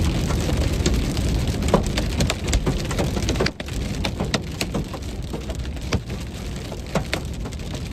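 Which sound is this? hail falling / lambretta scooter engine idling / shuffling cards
hail falling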